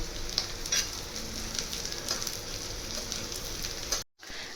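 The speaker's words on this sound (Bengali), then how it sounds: "গোলমরিচ আর জিরেটা ভালো করে ভাজা হয়ে গেছে।" Steady, close sizzle of cumin seeds and black peppercorns frying in hot oil, with faint crackles throughout, then a brief cut to near silence at the end.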